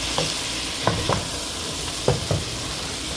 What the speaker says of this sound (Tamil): நல்ல சின்ன வட்டினா தக்காளி பழத்தை போட்டு ஒருக்கா இப்படியே பிரட்டி விடுவோம்.